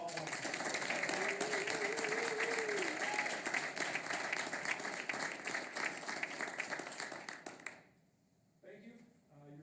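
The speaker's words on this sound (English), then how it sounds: "Big round of applause for all of them." Applause from the audience at a school board voting meeting, a loud steady round of clapping that fades out after about eight seconds, followed by someone speaking briefly at the close.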